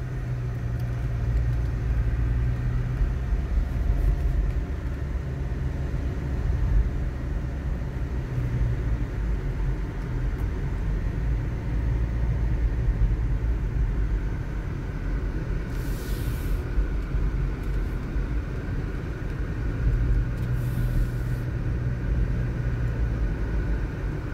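Steady road traffic on a Manila street on Black Saturday, heard as a continuous low engine rumble and broad wash of passing vehicles, with a faint hiss of noise over it and no talk.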